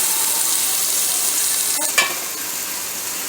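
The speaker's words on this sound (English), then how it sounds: "So saute it" Vermicelli biryani with curd sautés in a pan with a loud, even sizzle and hiss close up, broken once by a short scrape or clink of stirring; nobody speaks.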